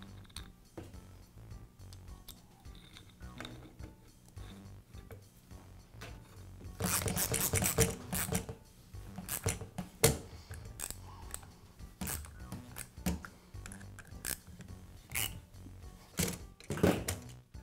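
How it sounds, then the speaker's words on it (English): Screws being driven in to secure the cap on a DeWALT finish nailer during a seal repair, a series of close clicking, ratcheting and clattering handling sounds with a busy stretch in the middle, no talking. "then I align the cap and secure it with the screws"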